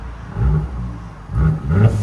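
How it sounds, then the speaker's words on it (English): Mercedes E400 twin-turbo 3.0L V6 with straight pipes revs twice in quick succession, a loud nearby exhaust rumble swelling and easing, with a turbo blow-off valve release mixed in. "You can hear that blow off now."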